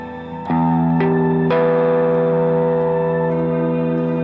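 Electric guitar through a BOSS GT-1000 Core notes plucked in quick succession, three attacks about half a second apart, then a thick chord held by a sound hold effect, sustaining steadily without decay.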